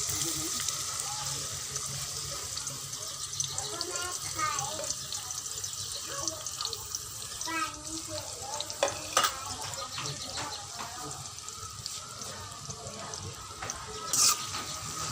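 Onions frying in a little oil in a wok, a steady close sizzle with scattered stirring clinks and scrapes throughout, one sharper metallic tap near the end.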